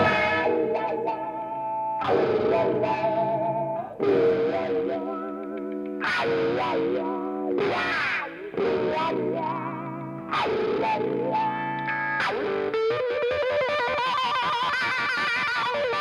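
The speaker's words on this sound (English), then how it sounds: "You can do this pedal steel effect with that." Electric guitar using a wah pedal for a pedal steel style effect, notes swelling and bending smoothly through heavy effects, played in phrases with short gaps, loud and close.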